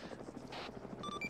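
A helicopter in the video game Arma 3 thrums with a steady, rapid rotor chop at low volume, its pulsing beat continuous through the moment with faint tonal whines above.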